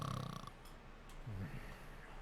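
Snoring sound effect in the Aokana visual novel game: a soft, low snore with a short nasal snort, faint and close, over quiet background noise.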